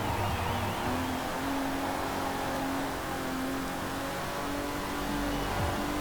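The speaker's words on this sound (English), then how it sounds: "the engine still sounds good, even though we've obviously upgraded it a little bit" An upgraded racing car engine in Forza Horizon 4 drones loudly and continuously, its pitch holding then shifting slightly as the motor revs.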